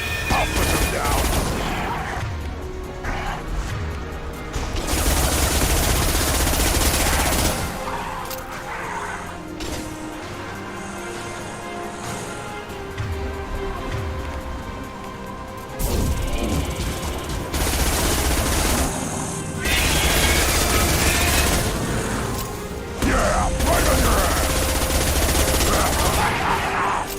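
Bursts of rapid automatic gunfire and heavy shots in Mass Effect 2 combat come in loud clusters separated by quieter stretches, with game voices calling out between volleys.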